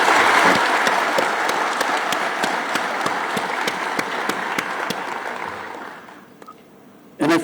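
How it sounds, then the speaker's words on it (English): Graduation ceremony audience applauding certificate recipients, a loud sustained wash of clapping with some sharp distinct claps, tapering off near the end before a brief sound returns. "I propose a big applause for all of you who have received the certificate."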